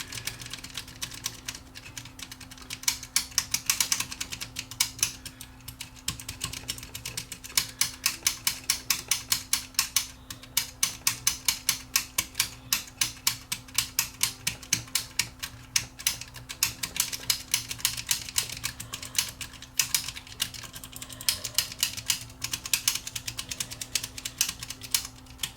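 Control switches on an Akai AMU2 amplifier clicked back and forth repeatedly to work contact cleaner in, a fast run of sharp close clicks over a low steady hum.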